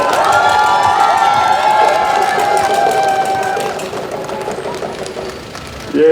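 Loud crowd cheering and applause at an outdoor election campaign rally in Yangsan for Moon Jae-in, with shouting and whistles over steady clapping that fades slightly before rising again at the end.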